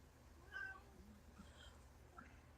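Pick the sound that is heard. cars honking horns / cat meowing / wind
cat meowing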